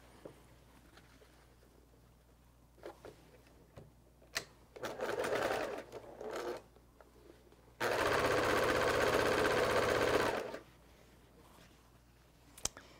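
A sewing machine sews the last seam of a quilt block: a couple of short stuttering bursts, then one steady run of rapid stitching about three seconds long, close by, with faint clicks around it.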